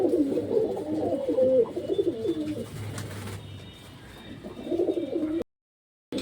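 Pigeons coo in low, throaty bursts, two clear rounds separated by a quieter gap, close by with faint background noise and no voices.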